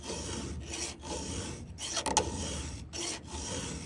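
A hand file rasps across a square-ground saw chain tooth in repeated strokes, each stroke a steady scraping pass broken by brief pauses, close and clear with no talk.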